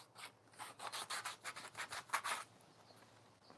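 Sandpaper rubbed back and forth over a burst sprinkler pipe during a repair, giving close, rhythmic rasping strokes for about two and a half seconds before stopping, with no talking.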